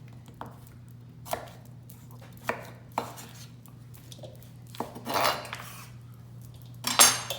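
A knife cuts through a cauliflower heart on a board in scattered, separate knocks, with a few louder scraping slices toward the end, over a quiet kitchen hum.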